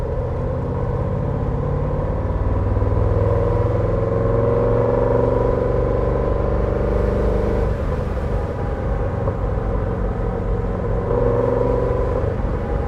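A 1963 Chevrolet Corvette Stingray engine runs with a steady, deep, loud rumble, holding a near-constant drone with slight swells in revs and no talking.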